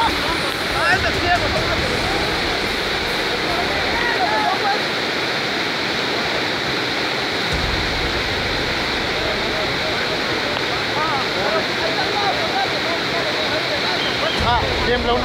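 Loud, steady rush of river water during a crossing on a tree-and-rope bridge in Chajul, Quiché, roaring continuously close by with people shouting over it.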